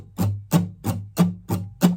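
Muted guitar strings strummed with a pick, six evenly spaced percussive chucks, dull and damped, close and alone.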